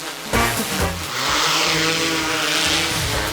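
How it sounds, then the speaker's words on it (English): A drone camera lifts off, its motors revving up from a few sharp bursts into a loud, sustained high-pitched whine that holds steady close by. "Did you hear the sound that the drone camera made when it took off?"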